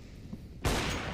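A single sharp gunshot in the Counter-Strike video game bursts loudly after a quiet moment, followed by a sustained bright wash of sound.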